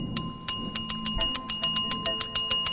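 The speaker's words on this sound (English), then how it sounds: "The boy exclaimed, still pounding the bell's button." A service bell is pounded over and over, about a dozen bright metallic dings in a quick, steady rhythm, each ringing briefly before the next strike.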